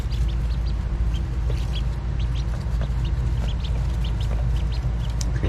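Two-day-old ducklings huddled by their water dish peep constantly in a brooder, a dense flurry of high chirps over a steady low hum from nearby equipment.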